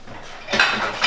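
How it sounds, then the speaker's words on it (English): Dishes and cutlery being put away in a home kitchen, with a brief cluster of clinks and clatters at close range, loudest in the second half. "I hope I'm not gonna make too much noise putting these dishes away"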